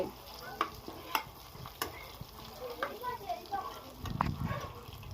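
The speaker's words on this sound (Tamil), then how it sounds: "ஓகே, ஜீரக பொரியுது." Cumin seeds splutter in a hot pan for pav bhaji, a soft crackling sizzle with scattered sharp pops and stirring scrapes, while people talk over it.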